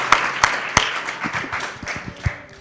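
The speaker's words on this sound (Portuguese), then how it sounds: "Então aplauda ao Senhor." A church congregation claps during a Portuguese worship service: a few sharp, close handclaps at the start, then looser, scattered clapping that carries on at a moderate level.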